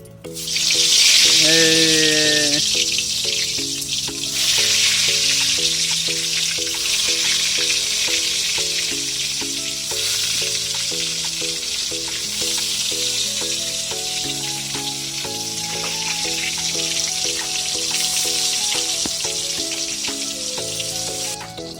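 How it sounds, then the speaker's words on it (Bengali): Eggplant slices frying in hot oil on a gas stove give a steady, fairly loud sizzle that runs through the whole stretch, mixed with melodic background music. "প্রথম বেগুন ভাজা হবে এই তেল গরম হয়ে গেছে তো ছাড়ো"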